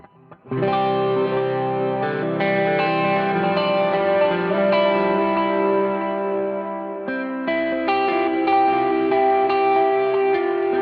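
A crunchy electric guitar driven by a Minotaur overdrive pedal through a Helix rig rings out loud, sustained chords with mild breakup, close and alone, with a brief pause before the chords restart.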